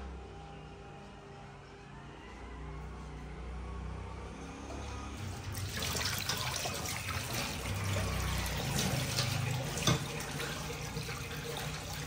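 Water running from a tap while soil is washed off in a village on a hot day, a steady broadband trickle that gets louder and splashier partway through, with no talk.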